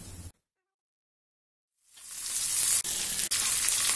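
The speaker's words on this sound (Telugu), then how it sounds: "ఒక పాన్ లో ఒక టేబుల్ స్పూన్ వరకు నూనె వేడి చేసుకుని ఈ శనగపప్పు ఆవాలు వేసి ఫ్రై చేసుకోవాలి" Chana dal and mustard seeds hit hot oil in a pan, a bright sizzle that starts abruptly after a brief silence, then crackles steadily and loudly with two short dips.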